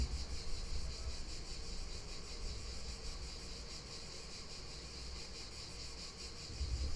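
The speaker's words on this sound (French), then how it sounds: "Je ne sais pas jusqu'où je peux aller pour vous faire entendre peut-être les cigales." Cicadas shrill outdoors on a summer morning in southern France, a dense, continuous buzzing drone that stays steady and fairly distant throughout with no voices.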